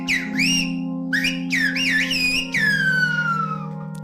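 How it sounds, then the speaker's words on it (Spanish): Silbo Gomero, the whistled language, sounds as a run of sharp, gliding whistled phrases with rising and falling pitch, ending on a long descending whistle over a low steady hum. "En silbo gomero."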